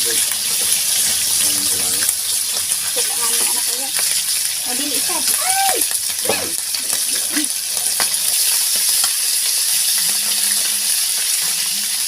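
Fresh fish frying in a pan with steady, loud sizzling and crackling throughout, plus occasional clinks and stirring sounds and brief voices in the background.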